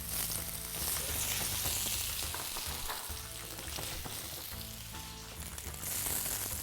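Peeled medium-sized potatoes dropped into hot Don Carlos olive oil for a Spanish tortilla, a steady loud bubbling sizzle with crackle that continues throughout, no talking.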